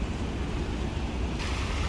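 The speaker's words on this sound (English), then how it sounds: "Nice breeze, sound of the water." Water rushes in a continuous broad wash, mixed with low wind rumble buffeting the microphone; steady and fairly close, with no voices.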